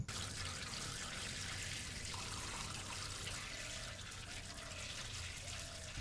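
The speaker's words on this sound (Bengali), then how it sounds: "রসগুলো পাত্রে ঢেলে নেওয়া হচ্ছে, যে পাত্রে জাল করা হবে" Date palm sap pouring steadily into a pan for making jaggery, a continuous close liquid rush and trickle lasting several seconds with no voices.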